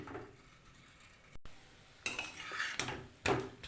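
Metal pan lid clanks and scrapes into place over a pan of rice-flour batter flatbread cooking on the stove, a few clattering knocks near the mic with a quiet kitchen hum between them.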